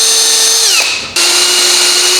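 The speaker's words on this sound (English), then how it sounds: "And then we drill them out to the correct size, because when we press them in, they collapse." A power drill bores out pressed-in bushings to size on a supercharged minibike build, a loud steady whine that sags in pitch as it loads, cuts out briefly, then spins back up alone.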